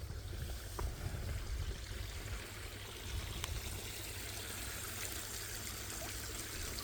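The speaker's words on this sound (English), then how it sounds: "Oh, I can hear the water." Faint water trickles and flows steadily in the distance, a quiet, continuous burble with no voices.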